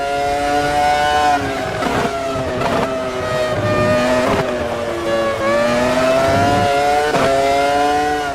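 A 2001 Ferrari Formula 1 car with a screaming V10 engine in the racing game Automobilista 2, heard from onboard as it revs high, shifts through gears and rises and falls in pitch, loud and continuous.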